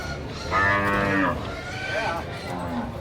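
Cattle moo loudly from close by, two long lowing calls separated by a short pause, then a quieter third call, with faint farm background noise.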